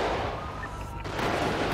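Gunfire in the video game GTA 5 with the LSPDFR mod, a dense, continuous clatter of shots at steady loudness with no clear pauses, no voices.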